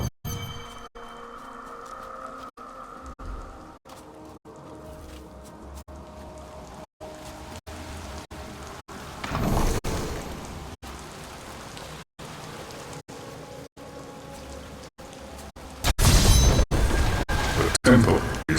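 Steady rain patters throughout a Diablo III game scene, a constant hiss broken by brief dropouts, with a couple of heavier booming surges near the end.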